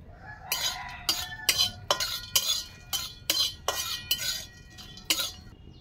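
Whole cloves, cardamom and cinnamon are fried in a kadai while a utensil scrapes and clinks against the metal in about a dozen quick, rhythmic strokes, close and loud with no talking.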